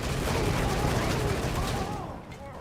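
Dense, continuous gunfire from a Wasteland 3 battle, a sustained rattling fusillade that stays loud before easing off at the end.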